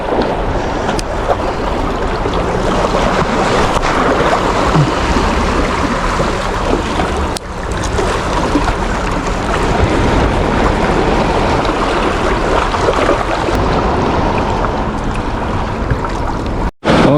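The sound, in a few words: boats passing back and forth near the beach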